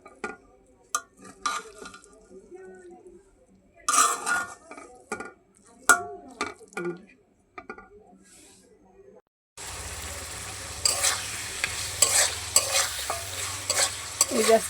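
Chicken for a biryani is stirred in a pan with scattered metal clinks and scrapes, then a steady sizzle of frying takes over in the second half, with talk in the quieter early part.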